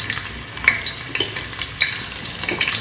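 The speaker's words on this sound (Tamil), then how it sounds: "எண்ணெய் காஞ்சதும் வெங்காயம் போட்டுடலாம்." Onions sizzling and frying in hot oil inside a pressure cooker, a steady bright crackle with occasional stirring scrapes, close and fairly loud, no voices.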